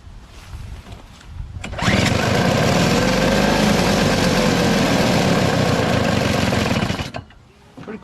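A Toro CR20E single-stage two-stroke snow blower engine catches after a pull start and runs loud and steady at high revs for about five seconds, then cuts off abruptly, with quieter handling noise before and after.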